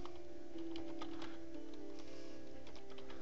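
Steady keyboard typing with quick clicking keystrokes over a low hum, close by and fairly faint, no voices.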